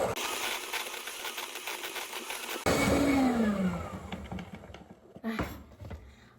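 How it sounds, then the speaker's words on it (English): A handheld electric mixer whirs through cake batter in a home kitchen, a steady close motor drone that shifts pitch partway through as the beaters change speed, then stops with a few clatters at the end. "I love using the handheld mixer because it saves me so much time."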